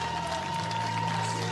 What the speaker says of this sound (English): Tennessee fans, warm round of applause for Reese Chapman.